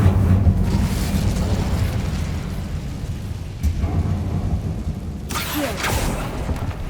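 Fiery blasts from the Incendio spell in Hogwarts Legacy, with a deep rumbling roar that lasts throughout and sharp bursts of flame near the four- and five-second marks, loud and with no voices.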